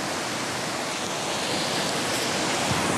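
Waterfall at Serra do Aracá with a steady, dense roar of rushing water, loud and continuous with no breaks or voices.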